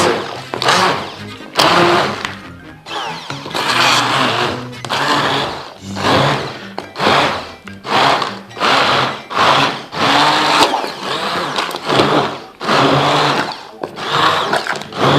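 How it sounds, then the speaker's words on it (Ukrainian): A blender whirs through soup in loud, pulsing bursts, its motor surging and dropping again and again in short stops and starts. "І збиваємо блендером до однорівної маси."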